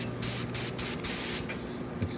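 An inexpensive Harbor Freight HVLP spray gun releases a fine mist of shine product during a car detail, producing steady hissing bursts that start and stop several times at close range.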